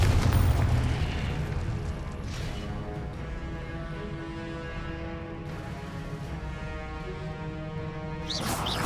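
Repeated Confringo blast spells in Hogwarts Legacy, with booming explosive bursts over a sustained rumbling, tonal game soundscape, loud at the start and swelling again at the end.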